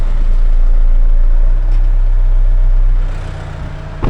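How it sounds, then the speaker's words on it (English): An Isuzu Grafter truck engine runs loud and close with a steady low rumble, holding high revs before the revs drop away near the end. "I'll just turn that revs up a tiny bit more."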